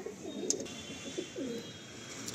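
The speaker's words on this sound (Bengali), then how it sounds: "এক জোড়া এবার কালো পায়রা দেখাচ্ছি" A black Madrasi pigeon coos in several low, rolling phrases, near and fairly quiet, with a brief sharp click partway through.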